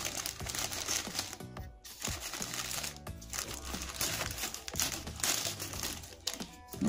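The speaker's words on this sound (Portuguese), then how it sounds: "Primeira encomenda já está sendo aberta, pessoal." Scissors cut open a taped parcel from a Brazilian online order, with continuous crinkling and tearing of packaging and tape, loud and close, broken by a few short pauses.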